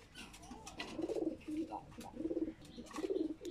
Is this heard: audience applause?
no